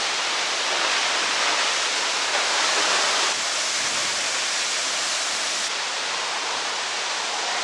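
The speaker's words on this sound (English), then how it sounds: "Such a powerful waterfall." A powerful waterfall in the Columbia River Gorge roars as a loud, unbroken rush of falling water, dense and steady throughout with no voices over it.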